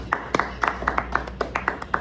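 A small group claps at an Arby's restaurant to welcome special guests: a dozen or so sharp, uneven claps close by over about two seconds, with a faint room hum underneath.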